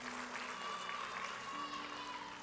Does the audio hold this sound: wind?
no